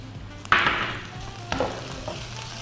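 Onions hit hot oil with garlic and ginger, a sudden loud sizzle burst that fades, then a second smaller sizzle as more goes in, with stirring scrapes.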